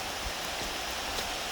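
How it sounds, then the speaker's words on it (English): September rain falling at Seven Bridges park in Cudahy, Wisconsin, a steady soft hiss of drops on leaves and ground with no voices, faint and even throughout. "Seven Bridges in the rain. September rain, right?"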